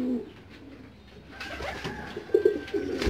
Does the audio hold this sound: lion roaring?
no